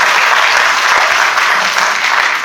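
Loud, continuous applause from the audience at a Korean church training lecture on evangelism fills the room, a dense even clatter of many hands without a break.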